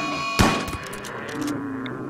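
Colonists in the video game RimWorld open fire on a sloth, with one sharp gunshot burst followed by a quick scatter of lighter shots, up close over faint background game sounds.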